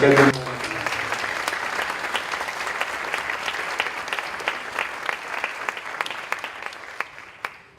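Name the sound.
audience applause for the collaborators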